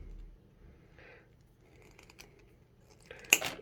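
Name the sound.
cutting wire for a bridal headpiece circlet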